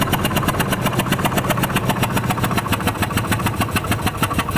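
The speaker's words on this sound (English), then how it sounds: "that was the sound of a blown spark plug" A Ford F150 with a 5.4 liter Triton engine and a blown spark plug runs with a loud, rapid, evenly spaced ticking and popping over a rough idle, close and continuous.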